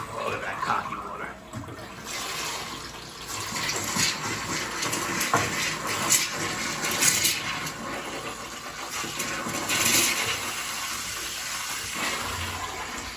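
Water flowing from household plumbing just after the hot and cold supply is turned back on in a leaking second-floor bathroom, a steady rushing hiss with splashy surges, while people talk over it.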